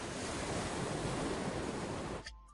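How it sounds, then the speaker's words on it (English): Sea waves heard through a seashell held to the ear in a children's cartoon, a steady broad roar with no break that fades off near the end, no talk over it. "If you put a shell to your ear, you can hear the sea."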